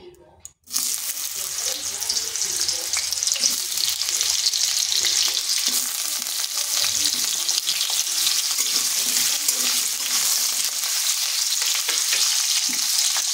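Diced potatoes drop into hot oil and burst into a loud, steady sizzle right after a quiet start, the frying holding strong and close throughout.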